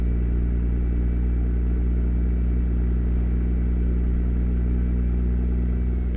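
A heavy truck engine in a trucking simulator, hauling a triple B-train cattle trailer, drones at a low, steady rumble for the whole stretch with little change in pitch and no talk over it.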